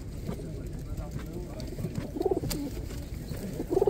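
Pigeons coo in short warbling bursts at a pigeon market in Radom, two clear calls rising above murmured talk and background chatter nearby.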